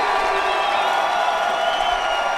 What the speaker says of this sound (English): the cheer there is for Zachary Bird